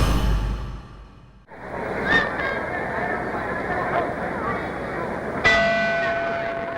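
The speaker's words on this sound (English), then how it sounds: "There's the bell for round 5." A boxing ring bell rings out once over a loud arena crowd and commentary at the start of round 5 in the Emile Griffith versus Benny Paret fight, a bright struck tone that clangs and fades, with a second strike near the end.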